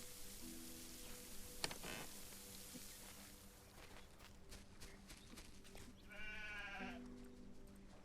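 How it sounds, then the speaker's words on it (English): Sheep in the Solarpunk video game give a short wavering bleat over quiet ambience, with clip-clop-like footsteps and a few soft clicks elsewhere. "my glitchy sheepy sheep. I'm feeding you guys."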